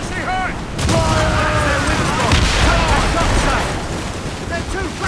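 Ship cannon fire during a naval battle in Assassin's Creed Rogue, a heavy rumbling barrage with booming impacts and wind, shouted crew voices heard over the broadside.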